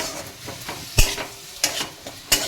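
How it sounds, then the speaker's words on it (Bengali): Onion, garlic and tomato frying in a pan with a soft background sizzle, broken by sharp scraping strokes of a spoon stirring against the metal at irregular intervals, close up. "পেঁয়াজ রসুন আর টমেটোটাকে দিয়ে দেবো আমি এটাকেও আমি একটু ভেজে নেব"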